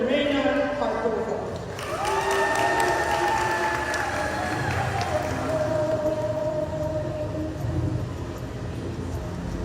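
Crowd cheering and applauding at a live Garifuna community radio event, a broad steady wash of voices and clapping that carries on for several seconds alongside speech.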